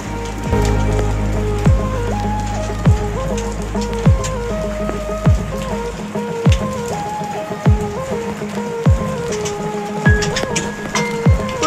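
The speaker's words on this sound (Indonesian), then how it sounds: "Hujan gede-gedean ini bos." Heavy rain pours down steadily, a dense wash of patter with sharp drips and knocks landing repeatedly on a nearby surface.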